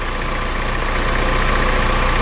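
A 2017 Honda City 1.5 VX automatic idles while warming up, a steady close engine drone with an even low pulsing throb, loud and unbroken, no voices.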